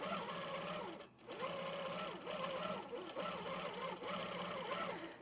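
An HQ Pro-Stitcher longarm quilting machine stitches a row across a quilt, a steady rapid mechanical hum with rhythmic rising and falling whirs as the head travels, close and alone.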